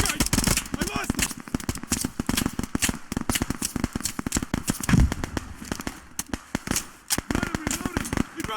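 Dense, rapid gunfire fills a firefight in the video game Operation Harsh Doorstop, loud bursts and single cracks stacking close together with brief gaps, while shouting voices cut in among the shots.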